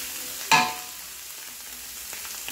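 Shredded chicken fries on low heat in a pan as a soft, steady sizzle. One sharp scrape of stirring rings out early, then the hiss carries on quietly with no voices.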